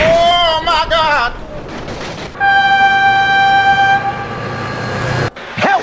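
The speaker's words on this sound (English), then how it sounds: "Oh my god, train!" Cartoon train with a loud, sustained horn blast in a monster truck cartoon, steady harmonic tones lasting a few seconds after excited shouting voices, ending abruptly.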